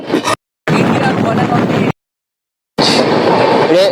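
Train rumbling across a combined rail-and-road bridge on the Kolkata to Shillong route, a loud continuous clatter broken by two brief gaps of silence, heard close and without talk.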